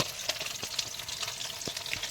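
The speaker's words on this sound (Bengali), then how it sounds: "আমাদের ভোলা মাছ ভাজা হচ্ছে" Pieces of bhola fish fry in hot oil in a pan, giving a close, continuous sizzle sprinkled with small crackles and pops, with no talking.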